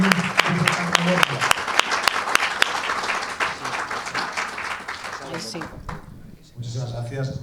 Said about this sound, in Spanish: Pido un fuerte aplauso para don Sergio y muchas gracias por venir.